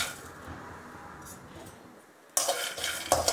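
Peanuts and spices dry roasting in an oil-free pan for a brinjal chutney, a quiet faint rustle that gives way to sudden louder scraping and rattling as a utensil stirs them, close up.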